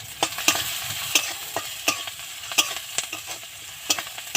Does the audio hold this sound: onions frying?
yes